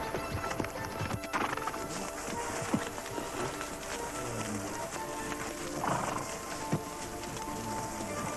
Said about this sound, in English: Would you allow horse riding here?